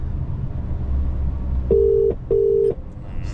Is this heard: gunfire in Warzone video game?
no